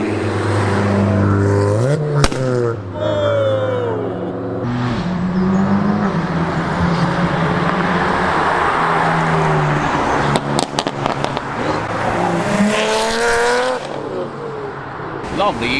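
A large pack of modified Ford Focus RS and ST cars pulls away from traffic lights, engines revving and rising through gears near and loud, with a brief tyre chirp and varying exhaust tones as the cars pass.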